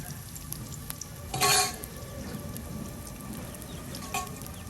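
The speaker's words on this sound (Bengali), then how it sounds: "তেলের সাথে পেঁয়াজগুলি একদম ভাজি ভাজি করে নেওয়া হবে" Onions frying in oil in a pan, a faint steady sizzle with a brief louder burst of hiss partway through and a soft clink near the end.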